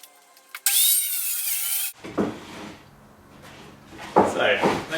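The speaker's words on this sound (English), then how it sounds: "you can set your saw back to square and just cut down your line" A saw set back to square cuts plywood along a marked line while building a roof-shaped climbing volume; a loud, steady whining cut runs for just over a second, then a voice talks over softer shop noise.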